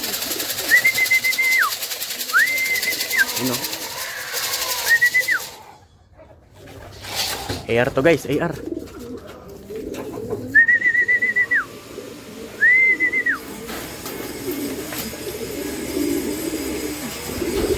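A pigeon coos in short repeated calls at a racing loft during a derby as a bird comes home, with people talking nearby in between and outdoor background noise.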